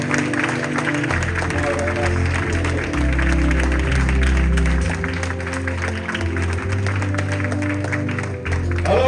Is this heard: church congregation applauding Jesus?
yes